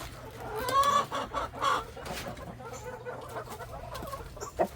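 Several chickens cluck and call close by in a coop, in overlapping bursts with a steady low hum underneath.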